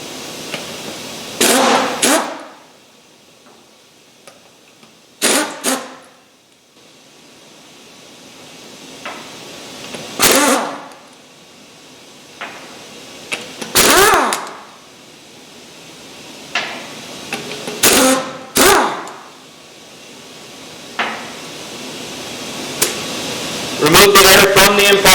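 A pneumatic impact gun works on tire lug nuts, firing in short, loud, rattling bursts separated by quiet gaps. A person talks between the bursts.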